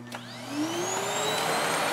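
A Royal S20 Lexon SR30020 canister vacuum cleaner switches on, its motor whine rising steadily in pitch as it spins up into a loud, close, continuous drone.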